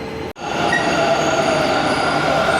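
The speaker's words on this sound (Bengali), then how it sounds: "তো মেট্রো এসে গেছে।" A metro train at a station in Bangalore rumbles and hums steadily and loudly after a brief cut, with a faint wheel squeal and no talking.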